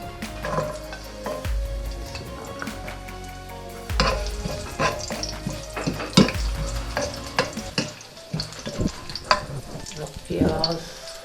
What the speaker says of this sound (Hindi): अब इसको फ्राई करना है।